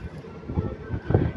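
A passenger train rolls into Mahbubnagar station, heard from on board as a low, uneven rumble with rhythmic wheel thumps and some wind buffeting, moderately loud and close.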